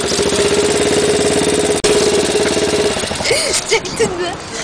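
A motorcycle engine on a 2012 ride in Korgan drones loud and close with the throttle held open, then drops toward idle near the end while people talk over it.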